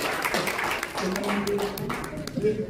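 An audience at the launch of a national sovereignty foundation and a new news outlet claps to welcome a speaker, with brisk, scattered applause heard under an announcer's amplified talk.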